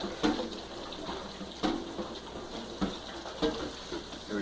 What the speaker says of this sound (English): So we're going to wash the plate, wash the pot out.